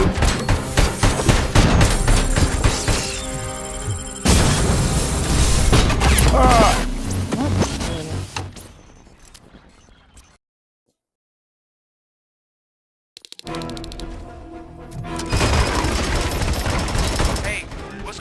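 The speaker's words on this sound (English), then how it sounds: "I am under attack from Ed 209." Rapid bursts of heavy automatic gunfire from the ED-209 enforcement robot in RoboCop: Rogue City, loud and dense with mechanical clatter, then a sudden drop to near silence for a few seconds before the barrage resumes.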